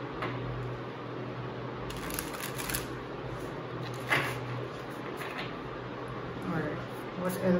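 Tarot cards being shuffled by hand, a soft papery riffling and sliding that runs steadily beneath a voice, with a few sharper taps and flicks along the way.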